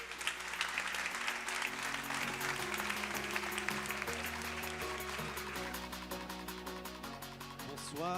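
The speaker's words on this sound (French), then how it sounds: "Sous vos applaudissements, s'il vous plaît." An audience claps steadily to welcome panelists at a women's event, a dense, even applause held for several seconds under quiet music tones.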